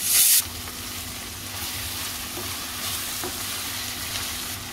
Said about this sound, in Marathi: आपण आलं लसूण पेस्ट घालूया। चांगली परतून घ्यायची आहे।